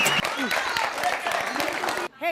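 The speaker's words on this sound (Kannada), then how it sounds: "ಹೊಡಿರಿ ಚಪ್ಪಾಳೆ ಹೊಡಿರಿ" An audience at an MLA's public talk claps in a dense, steady patter while a voice carries over it, and the clapping cuts off abruptly near the end.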